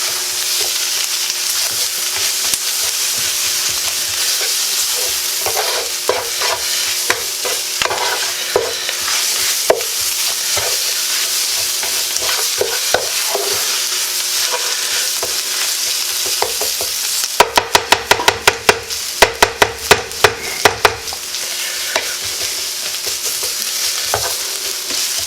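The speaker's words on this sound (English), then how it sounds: "we're going to get this all stirred in" Guinness stew is stirred in a pot under a steady sizzle, with irregular scraping and knocking of a spoon that grows into a quick run of sharp taps near the end.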